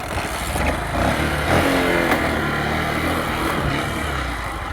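A vehicle engine starts and then drives off along a muddy road, with a steady, loud, rumbling drone that rises briefly in a revving surge partway through. No one speaks.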